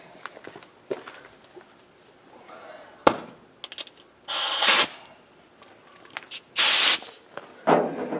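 Compressed air blasts dirt off a Suzuki TM/TS 400 motorcycle that sat 15 to 20 years, two long loud hissing bursts and a shorter one between quiet clicks and handling noises.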